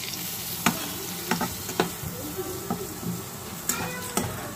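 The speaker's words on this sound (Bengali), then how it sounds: "ও আসলে প্রথমে পেঁয়াজটা মরিচটা একটু হালকা করে ভেজে নিল" Onion and chili fry lightly in a pan with Maggi noodle spice, giving a steady close sizzle. Scattered taps and scrapes from stirring sound through it.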